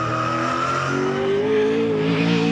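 A Holden race car in second gear builds back up toward 220 km/h on the approach to turn 2, its loud engine note droning continuously and rising in pitch, close by and with no voices.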